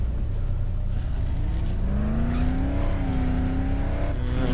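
A car driven in the video game Dead Island, its engine droning loud and steady with a rising, revving whine that climbs and dips as it accelerates, with no voices.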